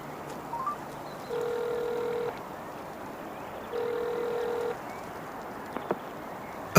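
A telephone line ringing while a call connects: two long, steady electronic tones about a second each, separated by a pause, over quiet room background.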